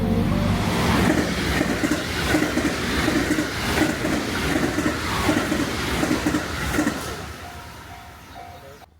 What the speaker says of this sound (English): we explored the vicinity first and found this local train passing by